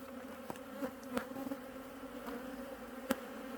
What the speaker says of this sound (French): Les abeilles sont assez calmes.